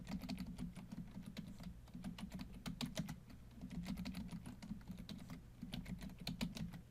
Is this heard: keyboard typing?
yes